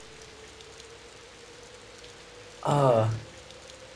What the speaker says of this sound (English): wow, the rain and the wind are kind of stronger than I thought